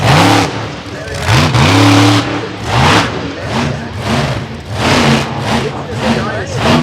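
A monster truck engine revs hard at an outdoor monster truck show at The Buck, surging and falling in repeated loud bursts while a crowd and announcer talk over it.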